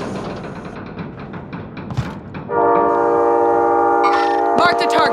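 A train in Call of Duty: Modern Warfare rumbles with mixed gunfire and clatter, then a loud, sustained horn blast cuts in and holds for several seconds with sharp bursts near the end.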